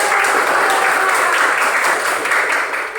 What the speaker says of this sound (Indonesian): Ya, tepuk tangan buat kelompok 3.